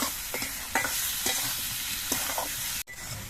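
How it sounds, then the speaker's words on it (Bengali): Spices and salt are sautéed for a prawn curry with cucumber and coconut, producing a loud, close, continuous sizzle broken by repeated scraping stirs. It cuts out briefly near the end and then resumes, with no speech. "নুন দিয়ে আবার কিছুক্ষণ কষিয়ে নেব"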